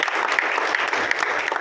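Brief, steady crowd applause at a Shyam devotees' gathering, with individual claps audible in a busy, even patter.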